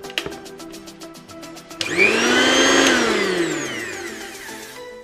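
A mixer grinder motor switches on after a few soft clicks and taps, spinning up to a loud, high whine that holds steady and then slowly winds down.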